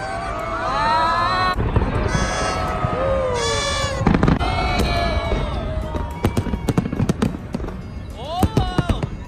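New Year fireworks in Australia pop and crackle right after a countdown, with sharp bursts and crackling toward the end under a loud, cheering crowd and nearby chatter.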